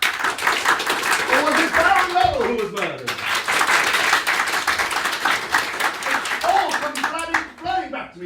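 A theatre audience claps during an interactive murder-mystery comedy show, with loud, uneven applause running under a voice that speaks over much of it.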